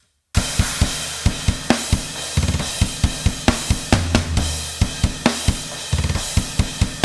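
A dry modern metal drum mix built from Toontrack Modern Metal EZX kit tracks, with no effect sends, pounds steadily: tight kick and snare hits, fast double-kick bursts and crashing cymbals, loud and upfront with no talking.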